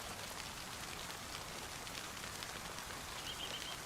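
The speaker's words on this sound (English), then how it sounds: "It's not really heavy enough rain to be turning it down" Steady rain falling in the video game DayZ, a continuous even hiss of drops on surfaces with no break, moderately quiet and unaccompanied by speech.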